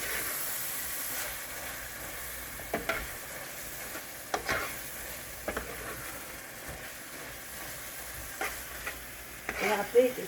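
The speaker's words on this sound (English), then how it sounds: "Just stir that in real good." Flour is stirred into sizzling beef stroganoff, a steady frying hiss with scattered scrapes and clinks of a spoon against the pan, close and continuous.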